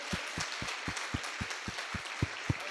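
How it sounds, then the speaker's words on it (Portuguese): Rhythmic applause during a church service, a congregation clapping in a steady beat of about four claps per second over a soft crowd wash. "Vamos dar uma salva de palmas para o Senhor?"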